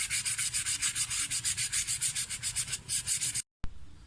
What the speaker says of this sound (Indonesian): lakukan perbaikan dengan cara menggosoknya menggunakan kertas amplas semacam ini